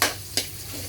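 Squid sautéing in a pan for adobong pusit, a brief burst of sizzle and stirring with a sharp scrape partway through, close and fairly soft, with no one talking.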